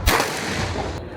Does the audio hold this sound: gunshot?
yes